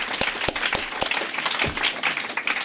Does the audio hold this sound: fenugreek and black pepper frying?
no